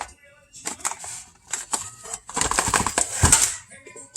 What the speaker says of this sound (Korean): 비닐을 뜯고 지금 이제 열어볼게요